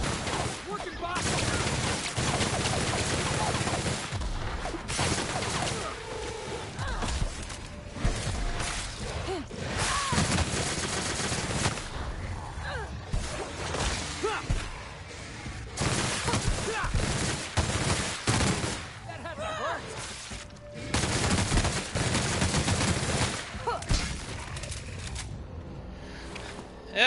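Rapid bursts of gunfire from The Outer Worlds video game pour out almost continuously, loud and close, with dense crackling volleys and brief gaps, under occasional talk.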